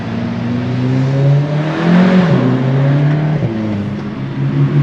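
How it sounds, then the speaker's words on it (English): A tuned VW MK7 GTI pulls hard in third gear, its engine note climbing steadily and loudly from inside the car, with a brief dip as the revs peak before the drone carries on. "Oh, that third gear. The third gear and this tune feels so good."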